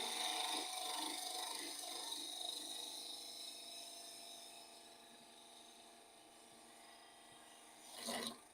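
A cup tool cuts wood against the grain on a spinning lathe, a faint, steady raspy whir that slowly fades, ending with a brief louder scrape.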